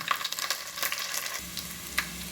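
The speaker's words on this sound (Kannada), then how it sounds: "ಒಂದು ಸ್ಪೂನು ಸಾಸಿವೆಯನ್ನು ಹಾಕ್ಕೊಳ್ತೇನೆ ಸಾಸಿವೆ ಸಿಗುತ್ತಾ ಉಂಟು ಈಗ ಬೆಳ್ಳುಳ್ಳಿಯನ್ನು ಹಾಕ್ಕೊಂಡೆ" Mustard seeds and garlic crackle and sizzle in hot oil, a steady dense frying hiss with scattered pops and stirring scrapes, close and fairly loud with no voices.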